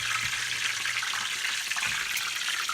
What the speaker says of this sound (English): you take your plantains and you add them to your pan